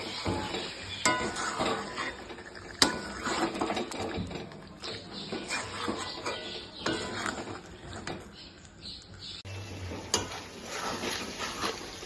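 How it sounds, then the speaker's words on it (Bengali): Sour yogurt being stirred into a pointed gourd curry in a pan, with faint scraping and soft wet stirring strokes and light sizzle underneath, quiet and close. "টক দই দিয়ে দেখো আমি ভালো করে মিশিয়ে নিচ্ছি।"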